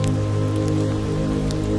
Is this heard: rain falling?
yes